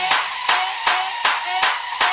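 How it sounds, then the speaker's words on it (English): Hands clap in a steady rhythm, about one clap every 0.38 seconds, six sharp claps in a row over a bright, continuous music backing with no voices. "Clap your hands to this"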